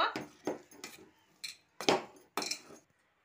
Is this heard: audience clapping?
no